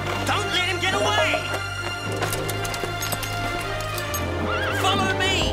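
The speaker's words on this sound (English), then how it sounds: "That's my horse! That's the Silver Colt!" A cartoon horse, the wild brumby stallion Silver Colt, neighs loudly several times over continuous galloping hoofbeats, set against a busy animated soundtrack with music.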